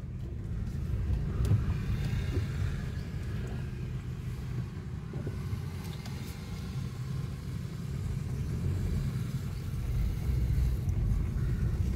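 Low, steady engine rumble from inside a Maruti Suzuki Baleno Alpha as it stops and pulls away again, muffled and continuous with faint cabin noise.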